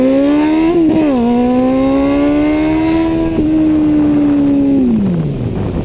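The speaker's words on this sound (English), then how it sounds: "I'm going to try to do a little wheelie." A motorcycle engine revs hard during a wheelie attempt, a loud, close, droning whine that climbs, holds high for several seconds, then drops away at the end.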